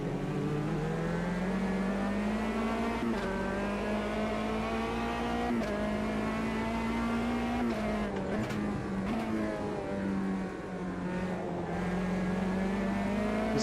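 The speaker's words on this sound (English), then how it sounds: "Great sounding little prototype cars." Prototype race car engine in Automobilista 2 lapping Virginia International Raceway's North Circuit, a loud, continuous high-revving drone rising and falling through gear changes, close and steady, with brief dips and clattering tyre noise.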